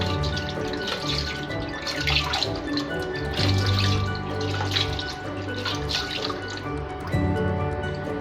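Tap water runs into a sink while honey is rinsed off a face, a steady splashing flow with uneven drips and splashes, fairly close.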